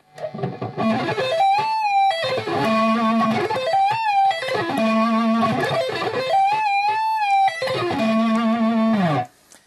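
Distorted electric guitar plays repeating fast sweep-tapped arpeggio runs with hammer-ons and taps that rise and fall in sweeping patterns, with sustained high notes bent up an octave between phrases.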